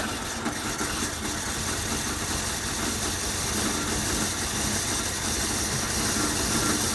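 A long-neglected Pontiac Phoenix engine idles steadily just after starting, with the choke stuck, running with a continuous, slightly uneven rumble and a broadband mechanical hiss, close and alone without talk.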